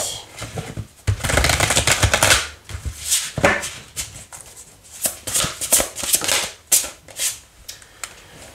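Tarot cards being shuffled by hand, a run of crisp riffling bursts and flutters with short pauses between them, close and clear with no talking.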